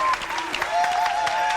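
Audience applause at a televised singing competition semi-final, a steady dense burst of clapping throughout with a sustained tone and faint voices underneath.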